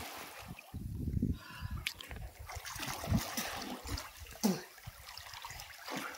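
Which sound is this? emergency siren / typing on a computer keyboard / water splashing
water splashing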